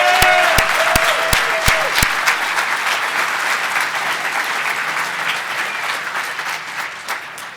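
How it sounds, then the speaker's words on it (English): A hacker conference crowd applauds, dense and continuous, starting loud with a few sharp electronic tones over it and gradually fading across several seconds. "let's get one more round of applause for Sands for hooking us up"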